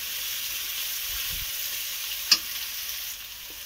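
Chopped onions frying in a pan, a steady close sizzle and hiss throughout with a single sharp clink partway through, no voices.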